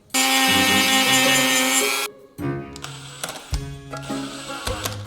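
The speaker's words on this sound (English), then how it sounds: "I'm gonna use my Dremel here to trim some of this material away so that I can put the hand back on." A Dremel rotary tool trims material from a plastic skeleton hand for a pirate skeleton animatronic, with a loud, steady high-pitched whine for about two seconds, then shorter bursts of grinding with pauses between them.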